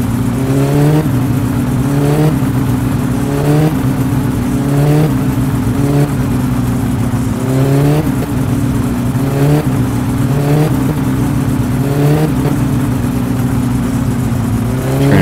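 A car engine in My Summer Car revs and sputters at high RPM, a loud, steady drone with rhythmic pulsing stutters repeating every second or two.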